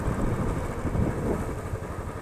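A motorbike ridden on a Darjeeling road, its mid-pitched engine droning steadily and fairly close for a couple of seconds with no talk over it.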